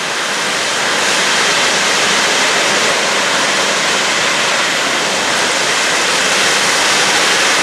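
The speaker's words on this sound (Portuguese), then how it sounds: "Tem muita água saindo ali" A large volume of water gushes out in a steady, loud, broadband roar like a waterfall, continuous and close with no pauses or voices.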